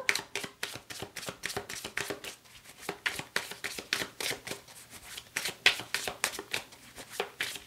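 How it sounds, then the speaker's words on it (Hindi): Tarot cards shuffled by hand in a steady run of crisp riffling bursts, close and fairly quiet, with no talking. "आपके लिए कार्ड्स को शफल करते हैं"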